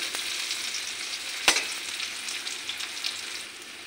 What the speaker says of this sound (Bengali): পেঁয়াজ কুচি কুচি করে কেটে রেখেছি ওগুলো দিয়ে দেব। রসুন থেতু করে রেখেছি ওটা দিয়ে দেব এবং হালকাভাবে ভাজা করে নিই।